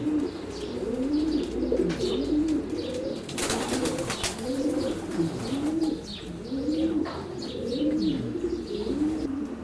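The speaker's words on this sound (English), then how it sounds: "So we put a few stock pigeons just now, Keith." Several pigeons coo in a loft, overlapping soft rolling calls repeating in a steady rhythm, close and clear, with a brief burst of wing flapping partway through.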